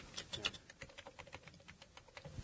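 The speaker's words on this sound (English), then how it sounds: "God, that's a lot of typing to do." Rapid, uneven keystrokes clatter on a computer keyboard, a quiet run of crisp clicks close by with a faint voice in the background.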